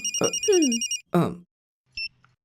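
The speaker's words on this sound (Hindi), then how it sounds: "Madam phone." A warbling electronic phone ring trills in short bursts, with a brief voice between rings and a faint beep at the end.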